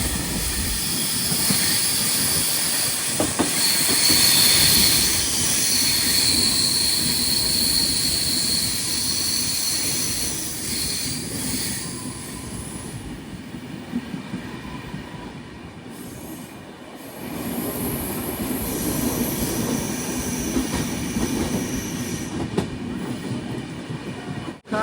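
Konark Express passenger train climbing uphill on the Mumbai to Pune line in monsoon, a long, loud, steady rumble and rattle of wheels on track with squealing wheel tones, heard from on board with no talking.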